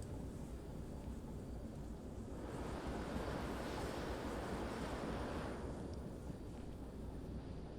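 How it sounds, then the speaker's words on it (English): A steady rush of wind while riding a train in the video game Derail Valley, a broad airy roar that swells in the middle and eases again, alone without talk. "Oh, the rush of wind."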